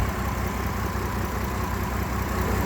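A GMC Envoy engine idling rough with a possible misfire, a steady close-up drone with an uneven low pulsing throb and no voices.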